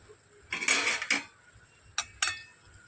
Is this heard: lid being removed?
yes